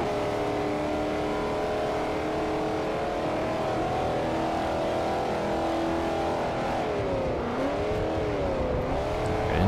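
A Ford Mustang Boss 429 engine in Forza Motorsport 4 drones loudly and continuously at steady revs, then pitch wavers up and down near the end as the car shifts and accelerates.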